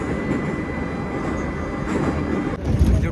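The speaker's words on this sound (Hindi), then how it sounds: "बाकी भाई इधर की मेट्रो आवाज़ बहुत करती है," A Tashkent metro train running through a tunnel, a loud steady rumble with rattling wheels and a rushing roar that swells slightly toward the end, heard without any talking.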